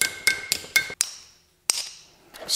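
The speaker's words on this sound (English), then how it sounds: "Smacked that with a hammer a couple times." A hammer strikes a vintage Yamaha dirt bike part on an anvil, giving sharp ringing metallic clanks: three quick blows, then two more spaced hits with decaying rings, and a final tap.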